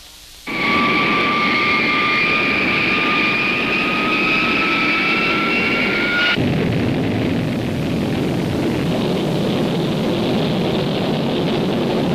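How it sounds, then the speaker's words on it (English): A loud jet roars close by with a rising whine, then cuts to a broad, steady rushing roar that carries on without pause. "the Air National Guard has jet fighters in the air"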